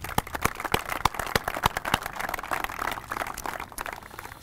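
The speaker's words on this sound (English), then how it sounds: "So let's give them a round of applause." Sharp, irregular handclaps from an audience at a university groundbreaking ceremony for a student-athlete performance center, steady and fairly close across the whole span with no talk over them.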